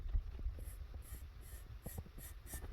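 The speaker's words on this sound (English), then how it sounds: "So we make our Sharpie mark" Sharpie marker drawing a mark on a drive shaft, a few faint, quick squeaky scratching strokes close by in a quiet workshop, with no voices.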